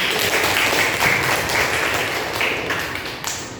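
Students in an Indonesian classroom lesson clap together, a steady dense patter of hands lasting a few seconds at moderate loudness, close by, with faint voices mixed in.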